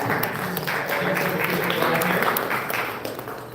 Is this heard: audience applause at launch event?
yes